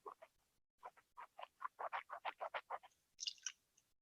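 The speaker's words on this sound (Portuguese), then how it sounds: "vou primeiro enxaguar minha boca e vou descartar." Water swished around in a mouth during wine tasting, a rapid series of wet gurgling and sloshing pulses, close and fairly quiet, followed by a brief sharper splash as it is spat into a cup.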